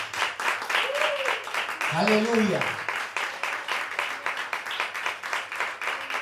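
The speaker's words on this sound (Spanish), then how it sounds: "¿Cuánto le dan un fuerte aplauso al Espíritu Santo?" Church congregation at a Spanish-language service claps in a quick, rhythmic pulse throughout, with a person speaking or shouting over the clapping partway through.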